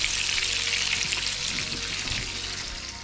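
Food sizzles steadily on several grills and electric fry pans, a loud continuous frying hiss with faint clinks of stirring, cooked outdoors on a road trip.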